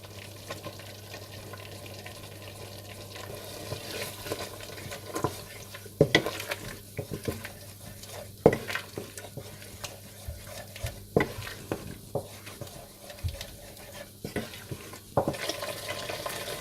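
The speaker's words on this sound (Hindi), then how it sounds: "सौंफ का पाउडर और फ्रेश क्रीम डालकर अच्छी तरह से भून लें" Masala being fried and stirred in a pan with fennel powder and fresh cream for Kashmiri gushtaba, a steady sizzle under repeated scraping strokes of a spoon, close and moderately loud, with no talking.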